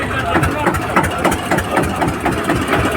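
A tractor engine idles at the Talwandi Sabo tractor market, a loud, steady, rhythmic chugging that runs throughout, with nearby voices talking over it.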